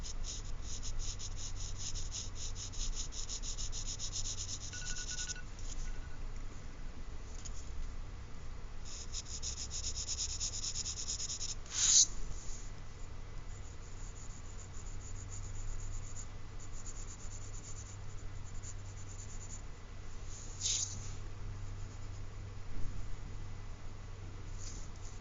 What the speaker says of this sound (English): you probably want to use a dull pencil, not too sharp, but you just barely touch the paper